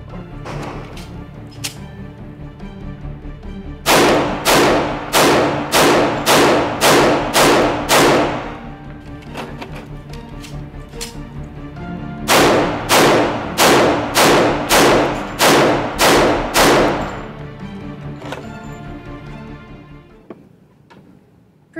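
Nighthawk Custom AAC 1911 .45 handgun firing two strings of about eight rapid, evenly spaced loud shots outdoors, with a quiet gap between the strings.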